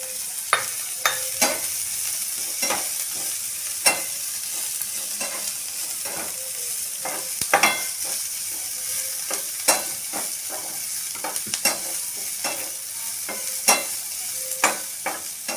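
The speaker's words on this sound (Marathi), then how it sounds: "छान असं थोडंसंच परतून घ्या, जास्त हे करू नका, भाज्यांना शिजवू नका." Sliced cabbage and vegetables stir-fried for Schezwan noodles, a continuous loud sizzle broken by repeated sharp scrapes and knocks of a spatula in the pan, with no voices.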